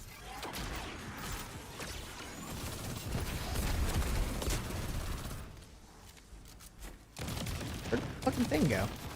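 MIDA submachine gun fired in a video game, bursts of rapid shots scattered through the clip alongside game effects and a voice talking over it.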